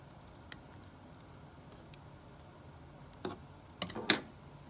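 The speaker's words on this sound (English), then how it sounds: "Remember, I'm not gonna cut where that dot is, and I'm not gonna cut all the way across." Scissors snip through folded paper to make a paper snowflake, heard as a few faint, close cuts: a single early one, then a small cluster of crisp snips near the end, in an otherwise quiet room.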